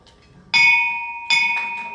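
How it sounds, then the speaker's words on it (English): A bell is struck twice, each ring a bright sustained metallic tone with a sharp onset and slowly decaying resonance, the second strike coming before the first fades, close and loud with no talk. "I'd like to ring the bell"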